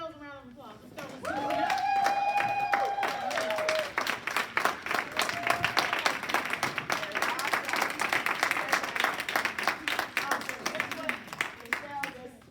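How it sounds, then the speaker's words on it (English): Applause from a standing audience at a women's conference swells and holds as a dense field of clapping, with a voice and cheers rising over it early and a low hum of talk behind. "Stand up and give yourselves a round of applause."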